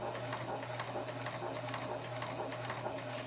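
A Janome HD9 sewing machine stitches fabric with a fast, steady mechanical whir and an even hum, running continuously at close range.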